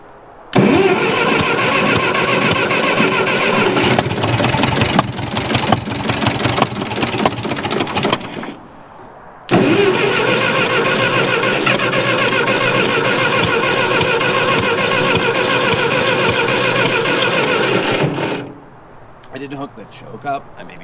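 An abandoned 1949 Ferguson TEA 20 tractor engine cranks and catches, then runs in a loud rough steady chug for several seconds, stops, and is started again to run on before dropping away, with voices faintly around it.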